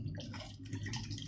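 Lemons being washed in water, a close, continuous splashing and sloshing with small drips, heard alone with no talk.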